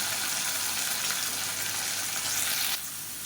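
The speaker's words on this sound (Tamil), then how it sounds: "இந்த ஸ்டேஜில் காலிஃப்ளவரை சேர்த்துக்கலாம்" Cauliflower stir-frying in a pan with garlic gives a loud, steady, close sizzle that softens slightly near the end.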